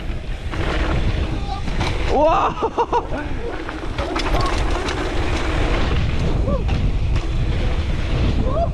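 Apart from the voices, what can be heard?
wind noise on microphone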